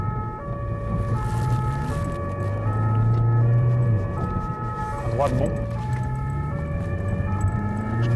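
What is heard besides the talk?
police car siren while driving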